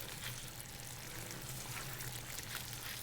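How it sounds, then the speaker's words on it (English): Sauce pours steadily into a pot of pasta, a soft continuous liquid splash and trickle heard close and fairly quiet throughout. "I'm going to pour this sauce into the pot with the pasta"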